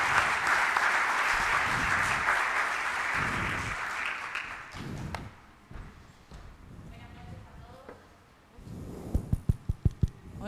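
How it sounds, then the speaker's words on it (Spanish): Audience applause welcoming central bank presidents to a panel at an Argentine democracy colloquium, a loud, dense wash of clapping that fades after about five seconds, followed by quieter murmuring, speech and a few sharp knocks. "Los recibimos con un fuerte aplauso."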